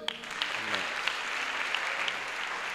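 A church congregation claps steadily at a service, a dense, sustained wash of applause filling the room from start to finish.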